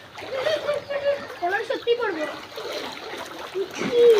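Splashing and sloshing through knee-deep floodwater around flooded homes, with uneven wading splashes close by under a person talking throughout.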